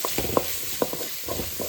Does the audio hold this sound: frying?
yes